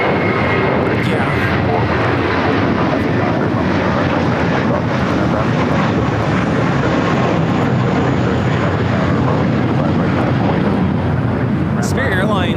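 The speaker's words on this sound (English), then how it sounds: "Spirit Airlines 1866 taking off to Milwaukee on the A321." A Spirit Airlines A321 takes off at LAX, its loud, sustained jet engine roar and rumble filling the scene at steady volume, with wind buffeting the microphone.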